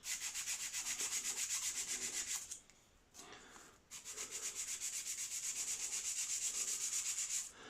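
Rapid rhythmic rasping of a nail file's rough side rubbing back and forth on a wooden model aircraft cabane part, close and steady, pausing briefly midway before resuming.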